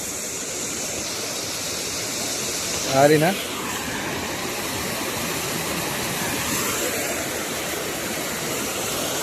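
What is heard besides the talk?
village waterfall, water falling from above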